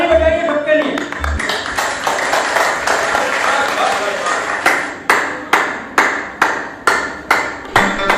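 Applause for doctors and police teams during the pandemic, sharp hand claps in a steady rhythm, clearest as evenly spaced loud claps in the latter half, with talk and background noise earlier.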